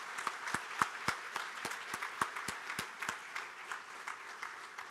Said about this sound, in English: Would you please join me in a round of applause for the board members?